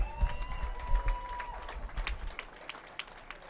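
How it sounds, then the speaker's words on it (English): An audience at a high school bowling state finals applauds its finalists. The clapping bursts out fairly loud, then thins and fades toward the end, with a faint voice over it at the start. "How about a big round of applause?"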